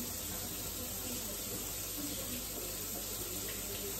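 Cold tap water pours steadily into a kitchen sink, a constant close rushing hiss that fills the whole stretch without pause.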